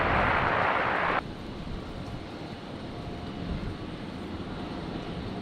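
A Jetstar airliner landing on runway 01 right at Brisbane airport. A loud, broad jet roar opens, then settles into a steady, more distant rumble that carries on to the end.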